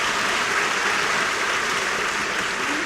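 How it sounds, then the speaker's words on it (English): An audience at a school convocation applauds in a dense, even wash of many hands clapping, sustained at a steady level without voices on top. "I want you to give her a round of applause"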